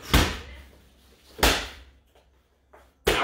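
A medicine ball is slammed onto the floor during a cardio workout, three heavy, booming thuds about one and a half seconds apart, each decaying quickly, with a fainter knock in between.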